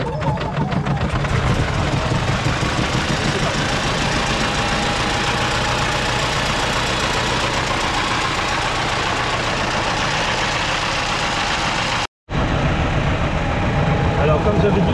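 A 1912 Peugeot Type 138 A engine running at a steady, rough low idle with a throbbing pulse, close and continuous, briefly cut by a gap near the end while people talk nearby.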